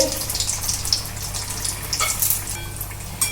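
Pointed gourd (potol) chops frying in hot oil in a pan, a continuous bright sizzle with crackling spikes, close and steady, with no talk.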